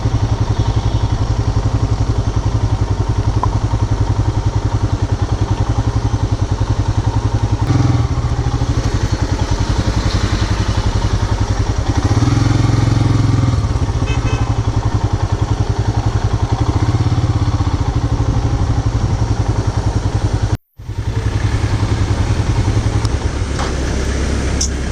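Royal Enfield Himalayan motorcycle riding on a mountain road between Jispa and Manali, a steady loud engine drone with wind rush throughout, briefly cutting out near the end before resuming.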